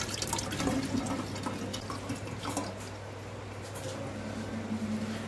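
Coconut water is poured into a mixture during a Shivratri puja, making a continuous splashing, trickling stream that is loudest at first and softens later over a low background hum.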